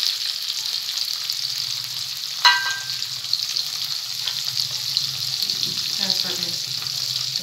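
Coarsely sliced onions fry in a pan with spices, giving a steady, bright sizzle throughout. There is a brief clatter of utensils early on and soft stirring scrapes near the end.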